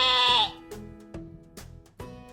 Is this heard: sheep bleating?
yes